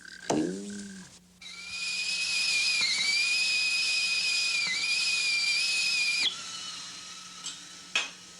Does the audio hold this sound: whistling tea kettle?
yes